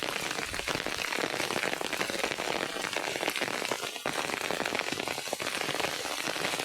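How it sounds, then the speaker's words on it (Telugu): Heavy rain pours steadily over a farm field where farmers keep working, a dense, even hiss of drops hitting surfaces close by, continuous and loud with no break. "భారీగా వర్షం అయితే వస్తుంది"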